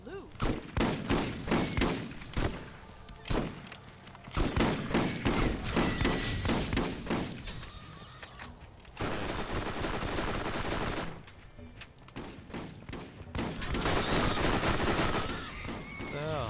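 Dense bursts of gunfire from a shooter game set in Borderlands, rapid volleys and shotgun blasts packed close together with brief lulls, loud and continuous through most of the stretch with no talk.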